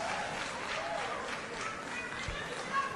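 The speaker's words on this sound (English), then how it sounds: "Can we welcome her with a big hand of applause?" An audience claps to welcome a speaker giving the opening prayer at a political gathering. A steady, moderately distant wash of applause and crowd noise runs throughout, with a voice over it.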